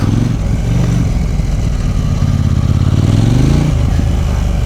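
A KTM 790 motorcycle engine runs loud and close with a continuous throbbing drone, its pitch sliding up and dipping again partway through.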